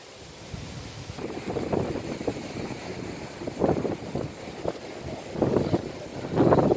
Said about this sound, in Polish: Taki wiatr wieje.